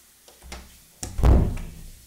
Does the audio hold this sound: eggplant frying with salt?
no